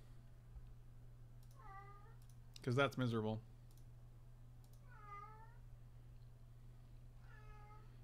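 A pet cat meows three times, faint and spaced apart, against a steady low hum, with a brief burst of speech in the middle.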